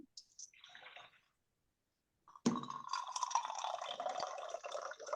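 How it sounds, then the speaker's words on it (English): Coffee being poured into a cup, a short liquid trickle followed after a pause by a louder, longer splashing pour, close by and with no talk. "Somebody pouring coffee."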